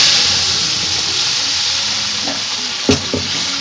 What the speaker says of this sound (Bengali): পালং আর মশলার পেস্টটা এবার আমি এর মধ্যে দিয়ে দেব।